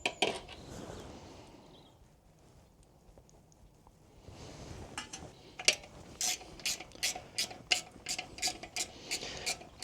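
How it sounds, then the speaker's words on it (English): A 12mm socket wrench ratchets off the silencer nuts on a Royal Enfield Himalayan 450 motorcycle while a spanner holds them from behind, a quiet stretch giving way to a run of rapid, close metallic clicks in the second half. "So with a 12mm socket and a 12mm spanner, just to stop that nuts rotating on the back, we'll just take that off."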